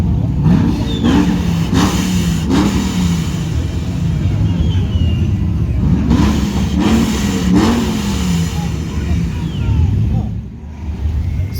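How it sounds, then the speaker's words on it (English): Hot cars rev and accelerate around a gas station the night before the 2020 Woodward Dream Cruise, loud repeated engine surges rising and falling over a constant rumble, with voices mixed in. "All of the hottest cars are coming here to fill up for gas and hang out."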